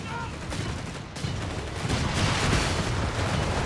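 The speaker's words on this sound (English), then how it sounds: "Arclight there getting hammered with bazooka rockets." Gunfire and rocket hits in a Company of Heroes 3 desert battle between Afrika Korps and British forces: a dense, continuous barrage of shots and blasts, loud and steady throughout.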